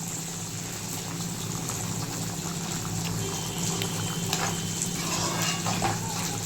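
Lamb lung pepper gravy boiling in a pan, giving a continuous dense bubbling and simmering hiss that stays steady throughout with no talk over it.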